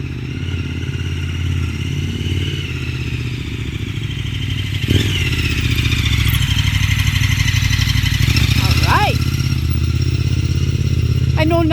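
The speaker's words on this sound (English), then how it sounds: "We can listen to these exhaust roar." A 2026 KTM 1390 Super Adventure R fitted with a Wings aftermarket exhaust idles and runs steadily close by, a continuous low rumble with a sharper clatter near five seconds and a brief rising blip toward the end.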